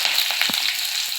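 Garlic, curry leaves and dried red chillies frying in hot oil, a short burst of bright spitting sizzle with a couple of soft stirring knocks.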